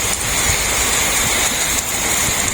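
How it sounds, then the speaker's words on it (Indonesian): Heavy rain pours steadily at a highway rest area, a dense, constant hiss and patter close by with no break. "kondisi rest area sekarang hujan deras ya"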